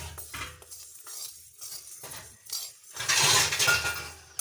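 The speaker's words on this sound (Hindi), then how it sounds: "अब हम इसमें सारा मसाला डाल रहे हैं और धीरे धीरे भूनेंगे, हल्का फ्लेम पे" A spoon clinks and scrapes against a pan in irregular bursts as lemon pickle masala is slowly roasted and stirred over a low flame, with short quiet gaps and no talking.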